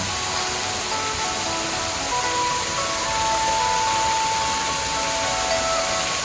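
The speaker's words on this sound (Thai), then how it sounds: "เป็นซาวเสียงธรรมชาติเสียงน้ำตกให้ ให้ฟังกันเลยเนาะ" A tall waterfall beside a restaurant in Prachuap Khiri Khan pours with a steady, loud, continuous rushing roar of falling water, close by and without talk.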